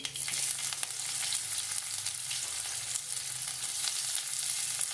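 Chopped onions sizzle and fry steadily in a pan for Malabar prawn curry, a dense, constant crackle held close throughout with no voices.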